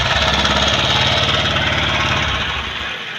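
A 99.7cc single-cylinder four-stroke BS6 motorcycle engine runs loud and close with a steady, rapid chugging pulse, easing slightly toward the end.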